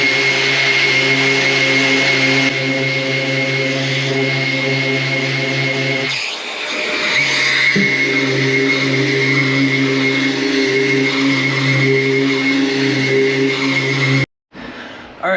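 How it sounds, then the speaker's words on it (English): A random orbital sander works a guitar body being prepped for finish, a steady loud whirring drone with a brief dip in pitch and level partway through, then cutting off near the end. "jump to the random orbital sander."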